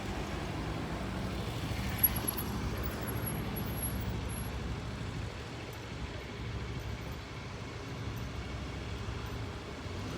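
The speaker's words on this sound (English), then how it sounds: "Gotta wait for traffic." Road traffic passes outside a Best Buy store, a continuous low rumble of cars and heavier vehicles at moderate distance with one brief sharp sound early on.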